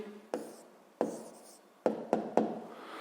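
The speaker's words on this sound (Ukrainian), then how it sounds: "Записуємо відповідь." Pen or pencil scratching out the answer to a sixth-grade math exercise on paper, several short close strokes and taps in quick succession, with no speech.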